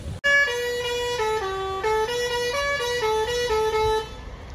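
A bus horn honks loudly and close in a parking area near a Goa beach, a sustained multi-tone blare that holds for about four seconds with slight pitch steps before cutting off.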